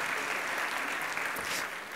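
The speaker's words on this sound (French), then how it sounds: "On les applaudit et on leur souhaite la bienvenue" An audience at a charity campaign launch applauds to welcome guests, a dense, even wash of clapping held steady for two seconds before easing slightly.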